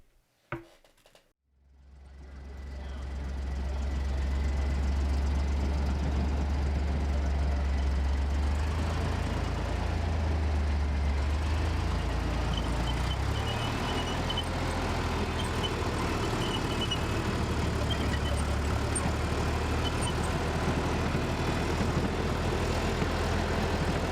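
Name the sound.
M42 Duster tracked anti-aircraft vehicle driving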